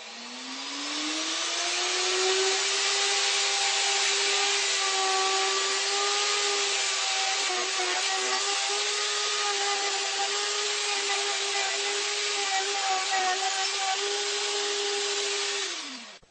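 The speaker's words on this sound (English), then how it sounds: "I'm going to cut a mortise in this board just to check my fit" Router bit cutting a test mortise into a scrap wood board, a loud steady high-pitched whine that runs continuously and evenly for about fourteen seconds before stopping, with no talk.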